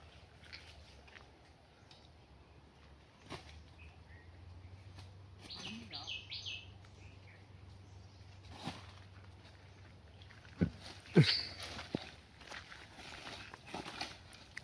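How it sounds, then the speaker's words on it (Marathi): Birds call in a forest during the monsoon, sparse thin chirps standing over soft rustling and footsteps close by, with a few louder knocks near the end. "पक्ष्यांची आवाज बघा"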